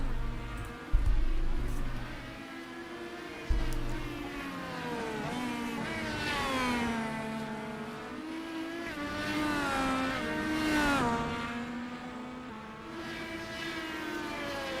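IndyCar race cars from the iRacing simulation lapping Watkins Glen, engine notes rising and falling in pitch as cars pass, with a steady drone of several cars on track over about fifteen seconds.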